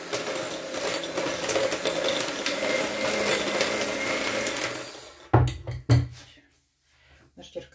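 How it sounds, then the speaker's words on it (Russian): Electric mixer whisking frangipane batter, a steady buzzing motor whir for about five seconds that cuts off abruptly, followed by a couple of clunks and quiet. "Взбиваем аккуратно."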